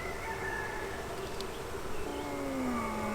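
Carniolan honey bees buzz steadily around an open hive while frames are worked, a soft, continuous hum with no voices.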